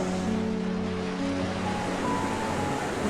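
Sea waves wash steadily far below a high vantage point, a continuous soft roar of surf with a faint tonal hum underneath and no voices.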